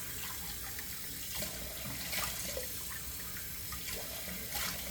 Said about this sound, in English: bear with me while I do 2 splashes on my face with cold water